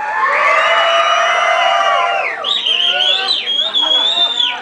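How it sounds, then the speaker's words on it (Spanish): A crowd at a freestyle rap battle roars its approval with loud, sustained yells, whoops and shrill whistle-like cries rising and falling together; individual claps are not distinct. "un aplauso para el Henry."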